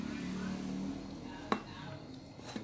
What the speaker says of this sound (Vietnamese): Này mình muốn ấy mình lóc mỡ rồi mình luộc trước nè.